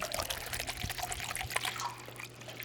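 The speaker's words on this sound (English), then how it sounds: "fill it with some bottled water" Bottled water pours into a small pot resting on a kitchen scale while priming sugar for homebrew is prepared, a steady splashing trickle that runs for a couple of seconds, close by and moderately quiet with a low hum underneath.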